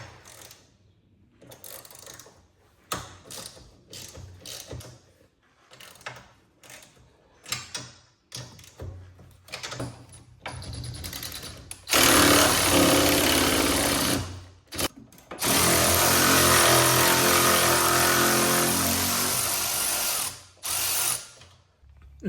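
A socket wrench removes bolts from the front axle of a 2000 EZGO TXT golf cart, with bursts of quick ratcheting clicks and rattling metal, ending in longer stretches of dense, close ratchet noise.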